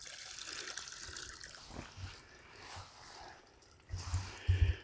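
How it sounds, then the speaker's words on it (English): Water drains from drip irrigation lines through an opened valve, a faint trickling and gurgling outdoors that swells into louder splashy gushes near the end. "I want to drain these lines"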